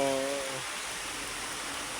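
Rain falls steadily in a dense, even hiss, close and moderately loud, with a brief voice fading out at the very start.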